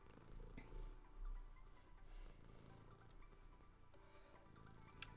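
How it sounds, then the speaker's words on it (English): A pet cat purrs softly and close by, a low, faint rumbling that rises and falls in gentle cycles in a quiet room. "she's purring at me because she feels bad"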